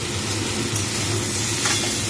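Capsicum stir-fried in a pan for aloo capsicum bhujia, with fried potatoes about to be mixed in, giving a steady close sizzle with a few scraping stirs and no voices.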